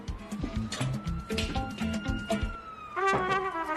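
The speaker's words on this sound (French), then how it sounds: "ça, c'est une sirène d'ambulance" An ambulance siren wails as a steady sustained tone at moderate distance, heard beneath busy background sounds and other noise over a few seconds.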